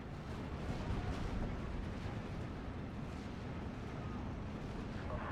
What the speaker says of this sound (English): another off-map strike hitting our front line